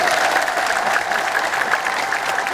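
A church congregation at an Ethiopian Orthodox sermon bursts into sustained applause, a thick, even wash of many hands clapping together with no break.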